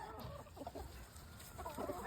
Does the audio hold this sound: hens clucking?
yes